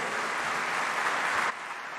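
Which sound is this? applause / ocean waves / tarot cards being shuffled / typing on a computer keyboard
applause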